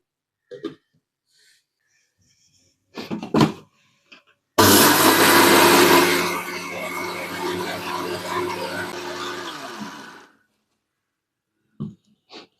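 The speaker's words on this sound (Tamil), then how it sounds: "இதை வந்து நம்ம குறகுறப்பாக அரைச்சி எடுத்துக்கலாம்" A mixer grinder coarsely grinding dry grain in a dry jar runs loud and steady for about six seconds, preceded by brief clicks and handling, then cuts off abruptly.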